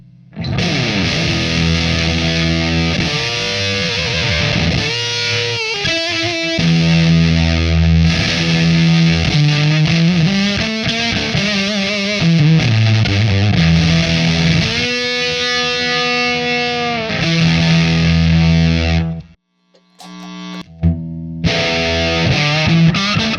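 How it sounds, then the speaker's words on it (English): An electric guitar played through a Fuzz Face fuzz pedal gives a thick, distorted tone, with chords and single-note riffs played continuously and loudly, then a short break near the end before playing resumes. "That's pretty tight for a fuzz."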